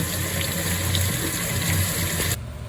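Tap water gushes steadily into a spray bottle for a DIY apple cider vinegar tick and flea treatment, a loud continuous rush that cuts off abruptly near the end.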